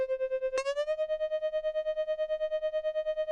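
Dry guitar line with no echo effect: a single sustained, clean note rings out alone, with a bright pluck about half a second in and a steady tremolo-like pulse throughout.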